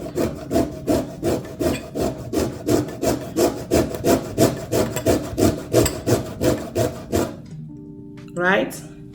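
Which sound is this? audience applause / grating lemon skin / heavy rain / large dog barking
grating lemon skin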